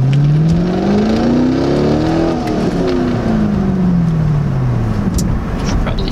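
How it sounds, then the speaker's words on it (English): A C5 Corvette accelerating, its engine note climbing then falling in a steady drone from inside the cabin, with faint intermittent ticking and rattling from a loose shifter mixed into the engine noise. "inside the shifter, something is rattling"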